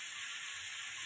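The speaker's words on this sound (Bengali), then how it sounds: "তো এখন কিছুক্ষণ কষি।" Chicken curry meat sizzles steadily while sautéing in a pan, a soft, even hiss with no talking.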